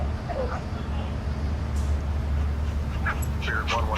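Rescue dogs aboard a small plane at cruising altitude let out scattered short yips, whimpers and barks over a constant low engine drone, with people talking.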